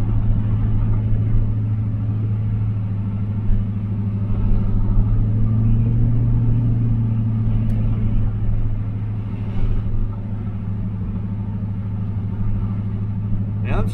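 A 1985 Camaro IROC-Z V8 idles steadily with a loud, constant low rumble and a slight swell in the middle, its carburetor and timing still unadjusted.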